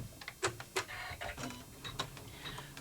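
An embroidery machine stitching a second colorway over mylar for a stained glass table runner, a quiet rapid ticking and clattering rhythm, close but faint.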